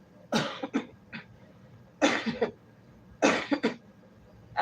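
Three bursts of harsh coughing, each a rapid cluster of two to four coughs, close and loud with brief pauses between.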